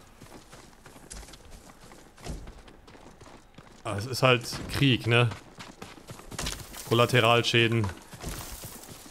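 Horse hooves clop in the Ghost of Tsushima video game, a few soft, intermittent thuds on open ground beneath someone talking over the gameplay.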